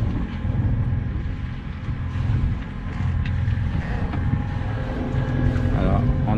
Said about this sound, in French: Pour le moment donc on est au moteur, on a sorti la GV.